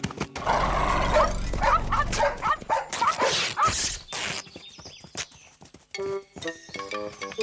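Several dogs bark loudly and whimper close by in a noisy burst, with sharp yelps, scuffling and a shouting voice over the commotion before things quiet into scattered sounds.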